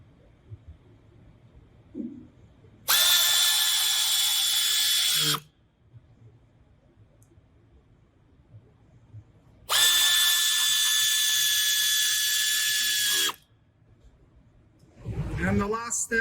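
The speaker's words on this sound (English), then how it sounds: "Now we're gonna install the other 3 skinny screws." A power drill drives skinny screws to fix OEM mud guards on a 2019-2024 Lexus UX200/UX250h, two steady whirring bursts of about three seconds each separated by quiet, with a brief low thump afterward.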